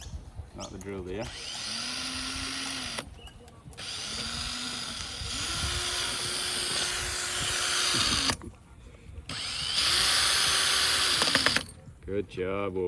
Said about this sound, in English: How do you like the drill?